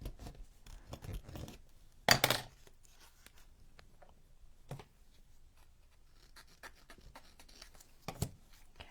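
Scissors snip through craft material while building a wintertime vignette with bricks and cobblestone; one loud, sharp cutting burst stands out among quieter scattered snips and small handling scratches.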